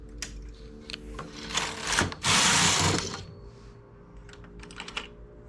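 Domestic knitting machine carriage knitting a row of a slipper, a close clattering mechanical run with a loud sliding whoosh midway, surrounded by small clicks and taps.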